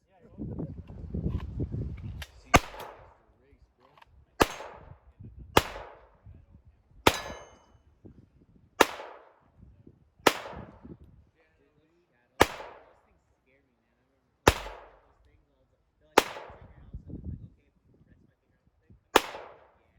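A Glock 44 .22 LR pistol fires about ten sharp single shots at uneven intervals, each a loud crack with a short ringing tail. Brief talking comes at the start and between shots.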